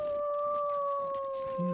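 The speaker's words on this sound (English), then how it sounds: "There's one howling right there." A wolf in the survival game The Long Dark gives a long, sustained, steady howl that holds its pitch throughout, fairly close and clear, with a faint low voice starting right at the end.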